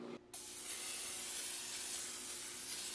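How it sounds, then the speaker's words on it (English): Non-stick cooking spray hissing from a can into a 9x13 baking dish, a brief quiet start followed by one long, steady, bright spray that runs to the end. "Spray it with non-stick spray."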